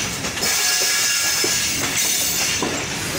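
Banglabandha Express train pulling out of Parbatipur Junction in Rajshahi, a steady loud rumble of wheels and carriages with hiss and faint squeal, no voices.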